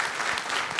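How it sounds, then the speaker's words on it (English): Applause from a conference audience after a security talk, a brief dense wash of clapping hands, steady and moderately loud with no gaps. "Give Katie an extra special round of applause"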